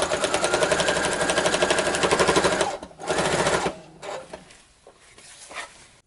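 A sewing machine runs a regular stitch around a jacket collar for a lining, a steady rapid mechanical chatter up close that stops abruptly, then gives a short second run before fading into quieter handling sounds.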